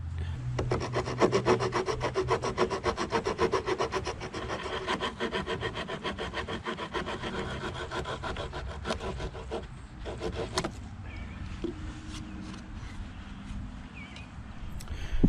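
A Swiss Army knife saw cuts by hand through a deck board at a post on a greenhouse deck, making fast, rhythmic, rasping strokes up close that pause briefly before a few slower final pulls.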